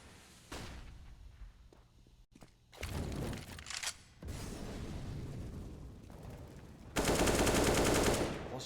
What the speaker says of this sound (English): Shots being fired on through.